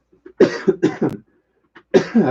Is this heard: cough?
yes